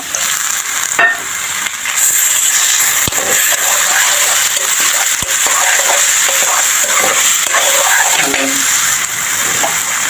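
Potatoes frying in a pan with crushed garlic and coconut paste added, giving a steady, close sizzle with stirring scrapes and occasional clicks throughout, no talking.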